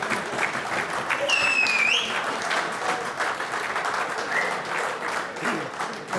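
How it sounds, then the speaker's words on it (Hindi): Sustained applause from the audience at an Urdu poetry mushaira, a dense steady clatter of clapping filling the room, with a brief high whistle-like tone near the start. "ख़वातीन हज़रात भरपूर तालियां"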